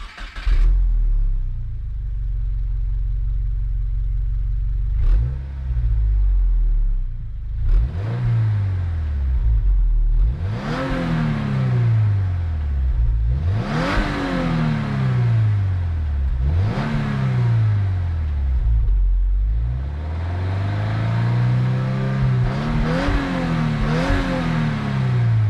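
A 2022 Subaru WRX engine with a quiet exhaust revs repeatedly, each rise and fall of rpm distinct, from a low rumble up to a strong whir and back, close and loud with no talking.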